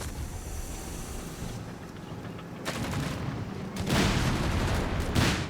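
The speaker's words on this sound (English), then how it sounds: "More shooting, more booming." Battle audio from the strategy game Company of Heroes 3, a steady roar of gunfire and booming artillery that grows louder and denser toward the end, no speech.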